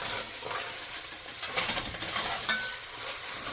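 Meat browns in a pot for lasagna soup, a loud continuous frying hiss with occasional scraping stirs of a utensil, close up and without talk.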